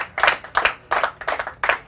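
A studio audience at a game show final applauds the leading team in five short bursts of rhythmic clapping, loud and close, with no voices over it.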